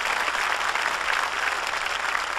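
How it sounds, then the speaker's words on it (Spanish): Steady congregational applause fills a church service, dense and continuous at moderate volume, with no voices standing out above the clapping. "Dele palmas al Señor de la gloria."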